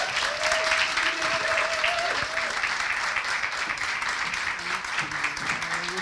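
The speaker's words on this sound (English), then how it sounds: "let's welcome her with a big round of applause." An audience claps steadily and densely for a speaker taking the stage, a loud continuous wash of applause that holds for several seconds.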